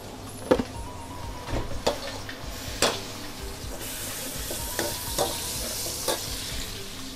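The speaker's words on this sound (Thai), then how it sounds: "น้ำมันลงไปแล้วก็กระเทียม" Garlic frying in oil, a continuous close sizzle broken by several sharp clanks and scrapes of a utensil against the pan at irregular moments.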